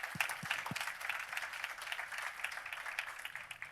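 Applause for award winners at the Com' en Or Trophy 2025 ceremony comes from a modest crowd, fairly quiet and distant, with a few sharp claps standing out early before settling into a thin, uneven patter.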